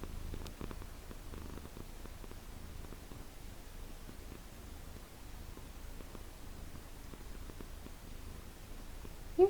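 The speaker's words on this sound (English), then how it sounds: "She's purring so loud" A cat purrs close by, a soft, continuous low rumble with a gentle rhythmic pulse, quiet and steady throughout with a faint rustle at the very end.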